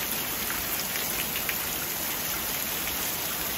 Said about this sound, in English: So this could be rain.